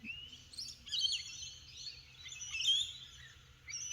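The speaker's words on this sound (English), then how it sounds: "Amazing bird life here this morning." Birds chirp and sing outdoors in the morning, with faint, scattered high calls and short tweets over a quiet background.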